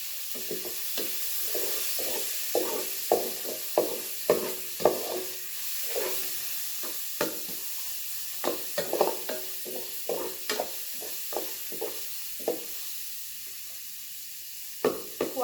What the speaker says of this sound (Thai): ขั่วหมูให้มันสุกก่อนจักหน่อยนึง